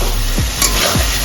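Spice paste for a Bengali fish-egg curry frying hard in a pan, giving a loud, close, continuous sizzle with a couple of quick stirring scrapes.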